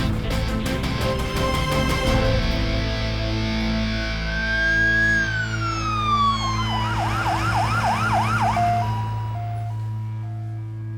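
Close and loud, an ambulance siren rises and then settles into a rapid wailing warble over steady low background noise, fading slightly at the end.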